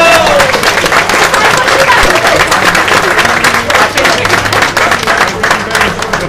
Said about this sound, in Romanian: haideți să o aplaudăm un pic ca să o încurajăm